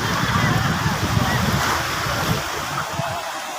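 Sea waves wash steadily onto a shore, a broad rushing surf with some wind noise buffeting the microphone.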